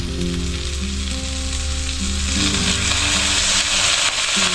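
Bagoong shrimp paste sautéing in a pan gives a steady, loud, close sizzle throughout, with a low tonal hum running underneath.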